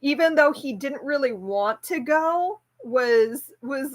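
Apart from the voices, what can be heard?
No distinct noise like a dog, phone or traffic.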